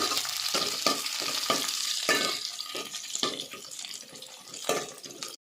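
Chopped onion and green chillies fry in a pan for an egg tomato curry, a steady loud sizzle broken by repeated scraping stirs, with no talking.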